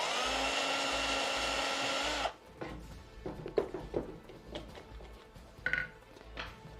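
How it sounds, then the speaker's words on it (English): Drilling a countersink in a hardcore modded Minecraft game: a steady, loud whirring drill tone holds for about two seconds, then stops abruptly, leaving scattered faint clicks and taps. "And now some countersink."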